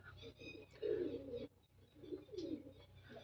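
Soft, low pigeon cooing in a couple of throaty bursts, fairly quiet and close, with faint background noise between.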